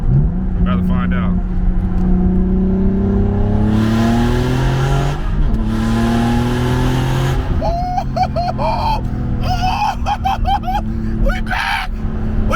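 A turbocharged BMW E36 accelerates hard in a lower gear, the engine note climbing steadily in pitch before a gear change and another rising pull, loud and close, with people talking over it.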